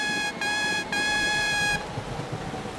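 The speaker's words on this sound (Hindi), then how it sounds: "मैं अपना हॉर्न बजाता हूँ।" An animated cartoon train sounds a bright, harmonic horn in three toots: two short blasts and then a longer held one, fairly loud over a steady bed of background noise.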